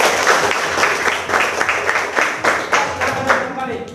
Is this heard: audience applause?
yes